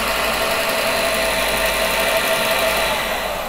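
The electric motor of a Creed 7B Mark 1 teleprinter runs at a constant speed, giving a steady, unbroken mechanical hum and whir that stays at the same level throughout.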